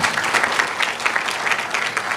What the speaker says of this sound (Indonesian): Yuk beri tepuk tangan buat Tuhan.